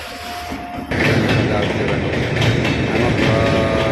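A train rolls across a rail bridge over the Mahanadi river, a loud steady rumble with rhythmic wheel clatter that swells in abruptly and stays close and continuous.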